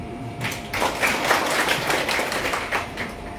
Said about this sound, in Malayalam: ശക്തിയായിട്ട് കൈയടിച്ചു